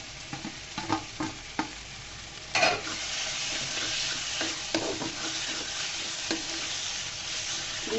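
Eggplant pickle curry is stirred in a pan just after fresh coriander leaves go in, giving a steady soft sizzle with repeated scraping and clacking strokes of a spoon, fairly close and alone.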